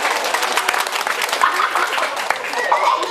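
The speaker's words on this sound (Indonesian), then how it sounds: "Tepuk tangan ini." Steady applause from a crowd, dense clapping filling the whole stretch with a few louder claps standing out.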